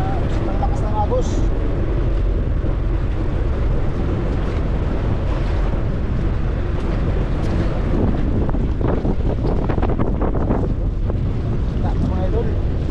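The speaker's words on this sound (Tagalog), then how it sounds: "Hey, lakas na ng hangin." Strong wind buffets the microphone beside fast-flowing water, producing loud, continuous low rumbling gusts over rushing water, with a voice speaking briefly partway through.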